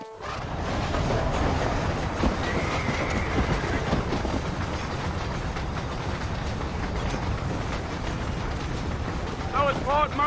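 A train in the video game Red Dead Redemption gives a loud, steady rolling rumble with clickety-clack of the wheels, filling the whole stretch without a break.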